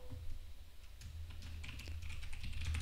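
Quick, light keystrokes on a computer keyboard as a control gets renamed, a steady patter of clicks close up against a low hum, with no talking.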